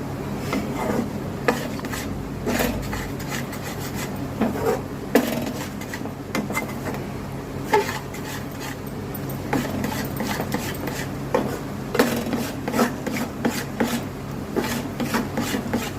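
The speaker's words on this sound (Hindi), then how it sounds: "मैं ऐसे ही मिलाऊंगी इसे" A spoon scrapes and stirs a milk powder and flour mixture in a pan for lemon barfi, giving steady rasping, rubbing strokes with irregular clinks against the metal, close and alone.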